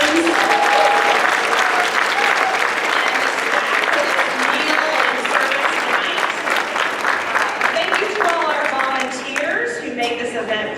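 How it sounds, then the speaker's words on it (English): Big round of applause at the 2024 Hall of Fame Gala for the servers from the Four Seasons, loud sustained crowd clapping with voices and cheers mixed in, thinning slightly toward the end. "Let's give a big round of applause for our servers from the Four Seasons."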